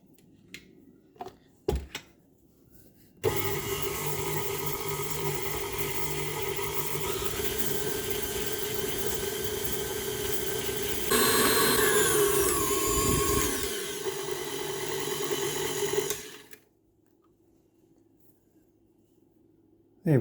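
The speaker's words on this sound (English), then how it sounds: "We're going to start with the whisk attachment, and we're going to be whisking up our eggs and sugar until they have creamed together." A stand mixer with a whisk attachment beats eggs and sugar together for a Christmas pudding batter, a steady motor whir that rises and brightens partway through, then cuts off, leaving near silence.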